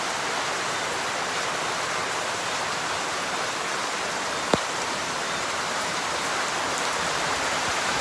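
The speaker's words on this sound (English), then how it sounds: "It's like a whole day of rain." Steady morning rain falls in Jamaica, a dense, even hiss of drops on surfaces lasting the whole stretch, with one sharp tap midway and no voices.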